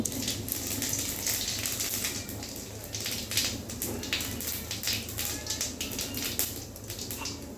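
Bay leaf, dried red chilli and whole cumin sizzle in hot oil, a dense steady crackle and spatter with sharp pops running throughout, fairly loud and close with no talking.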